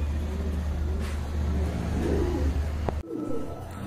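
Pigeons coo softly at a dealer's loft among pairs of birds for sale, over a steady low rumble of traffic and engine noise, with one sharp click near the end.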